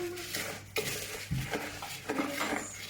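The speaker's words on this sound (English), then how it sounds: "So mix them all up." Spoon scraping and clinking against a bowl while mixing Rice Krispies, irregular stirring taps and rustles at close range, fairly quiet, with no voice.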